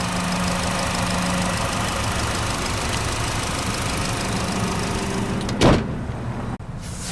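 A compact SUV's 2-liter turbo engine idles with a steady low hum close by, then a door-like thump and a brief dropout near the end.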